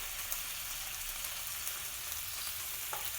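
Marinated liver sizzles steadily on a hot Tefal OptiGrill contact grill, a continuous close-up frying hiss with no talking.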